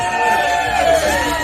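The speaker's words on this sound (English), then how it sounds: "Give him a cheer again." Crowd cheering at an outdoor seafood festival's oyster-eating contest, a short burst of voices and whoops under a loud announcer's voice.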